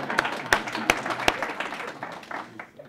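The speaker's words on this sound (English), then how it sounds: "you're allowed to applaud." A panel-discussion audience gives brief applause: a few sharp, distinct claps ring out early, then thinner scattered clapping fades away, fairly quiet overall.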